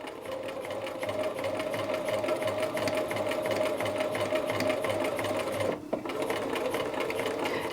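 A sewing machine stitches fabric for a flap pocket, giving a steady, close mechanical whir with a fast rhythmic chatter that runs continuously and then cuts out briefly near the end. No one speaks.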